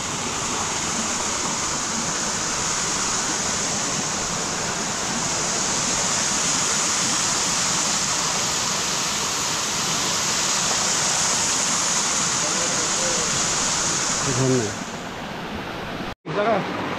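A waterfall at Kakrajhor in Jhargram pours out a steady, dense broadband roar that holds nearly level throughout, with faint voices underneath and a brief dropout near the end.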